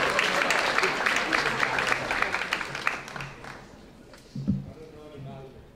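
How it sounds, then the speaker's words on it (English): A school audience claps as a student makes his way up to the stage, the applause strong at first and then thinning out, with a few thumps and a brief voice near the end. "go and give him a big round of applause as he makes his way up here"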